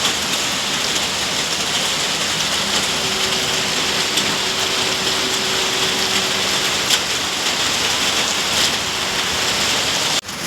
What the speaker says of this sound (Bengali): প্রচুর জোরে জোরে বৃষ্টি চলে এসেছে,